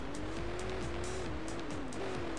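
Car driving in GTA 2 on the PS1, a steady engine drone whose pitch rises and dips between gear changes, with intermittent tire squeal over the top throughout.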